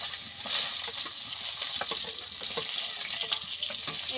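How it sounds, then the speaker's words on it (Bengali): Brinjal slices frying in oil in a pan, a soft continuous sizzle with light crackles and occasional stirring taps, fairly quiet and close. "মাছগুলো ভেজে নিয়েছি আর এখন বেগুনগুলি ভেজে নেব।"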